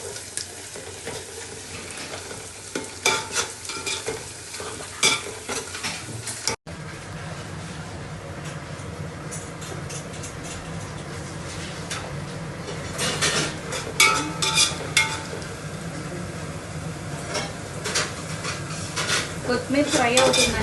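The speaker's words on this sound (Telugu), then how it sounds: "కొత్తిమీర వేసామండి, ఫ్రై చేసుకోవాలి" Fresh coriander leaves frying in a pan for crab curry, a steady low sizzle with repeated spoon scrapes and clinks against the metal pan, quiet and close, building slightly toward the end.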